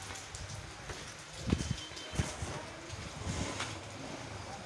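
Pouring rain over a deserted Allahabad market, a steady broad hiss with a few louder splashes and gusts of wind buffeting nearby.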